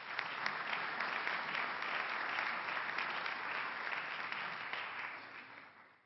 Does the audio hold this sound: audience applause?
yes